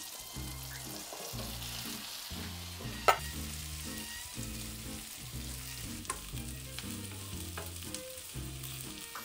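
Steady frying sizzle of potato patties crisping in a pan, with faint clinks and scrapes of a utensil and a low rhythmic background beneath, no talking.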